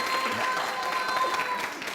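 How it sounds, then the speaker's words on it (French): Studio audience at a televised show applauding, a steady, even wash of clapping with a faint crowd murmur beneath. "applaudissez pour vous-même"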